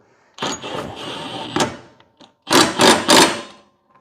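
A power tool zaps lawn mower deck bolts tight: one longer whirring burst, a brief blip, then three short, loud bursts in close succession, all near and without talk.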